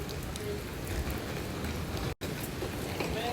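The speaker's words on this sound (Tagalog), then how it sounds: "Umuulan lang talaga guys. Maulan sa Palawan." Steady rain falls in Palawan, a dense, even hiss of drops on surfaces that runs unbroken apart from a split-second dropout, with no voices over it.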